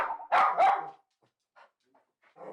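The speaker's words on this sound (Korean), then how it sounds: "그렇게 짖어도 소용이 없어." Lulu the dog lets out two loud, excited barks close by, followed by a few faint yips and small sounds before another bark starts at the end.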